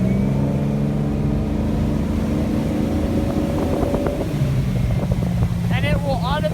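A 2008 MB Sports B52 V23 motorboat engine drones loudly and steadily at full throttle, its pitch shifting as it runs at speed, with wind rushing and a voice speaking over it.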